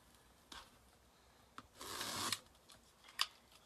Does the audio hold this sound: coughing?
no